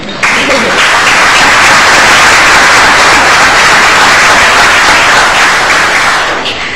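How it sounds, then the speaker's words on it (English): Loud, sustained applause from an audience at a city council meeting, steady dense clapping filling the whole stretch without pause. "You should give an applause for that."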